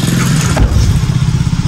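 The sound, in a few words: vehicle engine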